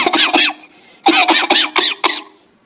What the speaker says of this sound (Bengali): তুই কাশিস কেন রে?